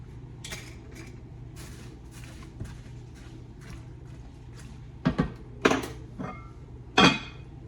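A metal lid clanks onto a pot of boiling salted cauliflower in a home kitchen, a few sharp knocks and rattles near the end after a quiet stretch of low hum.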